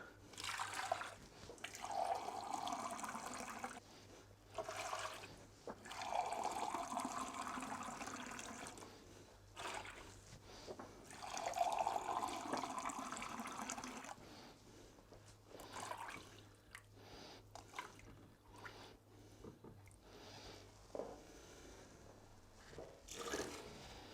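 Tap water runs into a hydroponics container in repeated pouring, splashing bursts that stop and restart several times, fairly close and alone with no speech.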